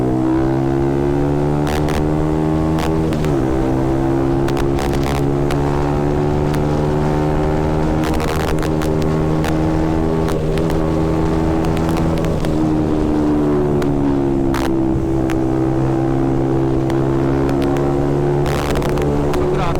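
KTM Duke motorcycle fitted with an aftermarket carbon exhaust, ridden on a busy city road, accelerating with a loud steady engine drone whose pitch climbs and dips through several gear changes, with traffic noise around.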